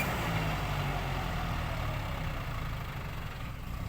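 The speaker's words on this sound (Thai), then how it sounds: "รถไถมาแล้วครับ" A farm tractor engine rumbles steadily and close by throughout, a heavy low idling drone with no voices over it, in rural Surin, Thailand.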